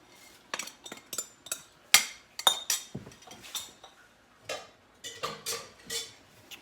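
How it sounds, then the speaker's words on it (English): Bacon going into a pot of clam chowder, heard as a run of sharp metallic clinks and clatters of utensils against the pot, irregular and close, with short pauses between bursts. "And we're going to now add the bacon."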